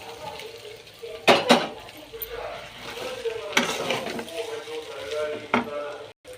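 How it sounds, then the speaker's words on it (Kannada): Cooked payasam being poured into a pan and stirred, giving clattering scrapes and knocks of metal utensils against cookware in a few bursts, with a soft sizzle underneath. "ಈಗ ಬೇಯಿಸಿಟ್ಕೊಂಡಿರೋ ಪಾಯಸ ಹಾಕ್ತಾಯಿದ್ದೀನಿ."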